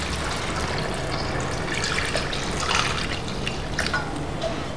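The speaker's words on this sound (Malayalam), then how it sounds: "മേഘക്ക വെള്ളം ഒഴിച്ചു." Water is poured over cucumber and jackfruit seeds in a pressure cooker, making a steady close trickling and splashing that runs evenly through the whole stretch with no talk.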